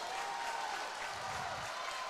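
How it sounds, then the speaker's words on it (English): A basketball crowd from Estill County cheers and applauds at a regional high school tournament game. The noise is a dense, steady roar of clapping and voices that fills the whole gym, with no clear speech. "Estill County crowd getting a little excited right here in front of us, on their feet"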